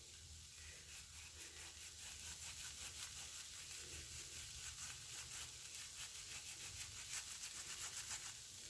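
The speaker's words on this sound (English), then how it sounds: "So I'm grating it on this side, and then it kind of collects on the other side when I turn it over" Food scraped across a kitchen grater while making egg rolls, a faint, steady rasping rub that repeats in quick strokes, close by with no talking.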